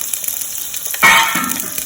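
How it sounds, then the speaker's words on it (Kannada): Onions and curry leaves drop into hot coconut oil, a quiet background hiss giving way to a sudden, louder sizzle that then settles into steady frying. "ಸ್ವಲ್ಪ ಫ್ರೈ ಮಾಡ್ತೀವಿ"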